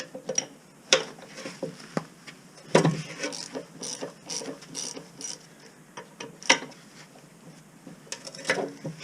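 A ratchet wrench clicks in uneven bursts while loosening a handbrake cable bracket bolt on an AWD Honda Civic EP3 being taken apart, with close, sharp ratcheting and a few louder knocks.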